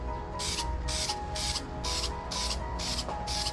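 A Plasti-Dip spray can lays a light dust coat on car wheels. Seven short hissing bursts come in a steady rhythm, close and loud, with no talking.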